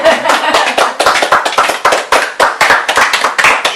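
Clapping from a small audience after a reading, a quick run of distinct, fairly close hand claps in an uneven rhythm, with no talking over it.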